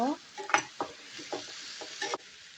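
Jackfruit curry being stirred and mixed in a pan gives soft, irregular scraping strokes over a faint sizzle, close and quiet.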